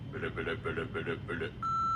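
A phone's voicemail greeting plays as a voice talks in rhythmic bursts, then a steady high beep sounds at the end, clear and close.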